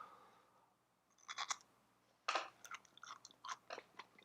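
Crunchy cooked bamboo shoot is chewed close up in Osaka, Japan, a run of quiet, irregular crisp bites and crunches after a faint opening, with no talk.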